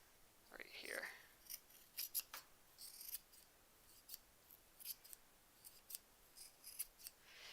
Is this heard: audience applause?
no